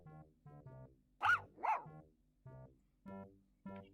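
A small furball dog barking in King's Quest VII, two sharp, loud yips rising out of a steady run of soft, low, muttering sounds, close and short.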